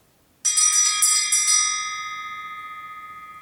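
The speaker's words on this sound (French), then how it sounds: "Ça, c'est une petite clochette" A small elephant bell is struck, giving a bright metallic ring that shimmers through a few quick rattling shakes, then sustains and slowly fades alone in near silence.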